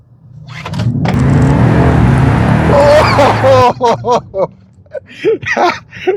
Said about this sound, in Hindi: अभी स्पोर्ट्स प्लस मोड पे डाल देता हूँ इसको। ओके, तो अभी हम देखते हैं कि ये कितनी फास्ट है जी।